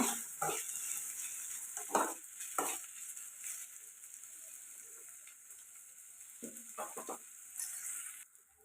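Tomato and egg mixture being stirred in a frying pan, with steady bright sizzling throughout and several sharp scrapes and clinks of the spoon against the pan.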